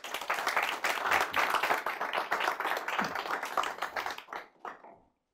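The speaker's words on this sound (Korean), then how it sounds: "여러분들 격려 박수 한번 보내주시기 바랍니다" An audience at a talk gives applause of encouragement, with dense, lively clapping that holds steady for about four seconds, then thins to a few last claps before falling silent.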